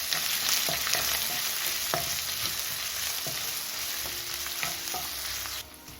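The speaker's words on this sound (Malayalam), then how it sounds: "നമ്മുടെ ഇഞ്ചിയും വെളുത്തുള്ളിയൊക്കെ അതിന് ഫ്രൈ ആയി വന്നിട്ടുണ്ട്" Green chili, ginger and garlic frying in a pan, a loud, steady close sizzle with occasional stirring scrapes and taps, ending with a slight drop in level, with no talking.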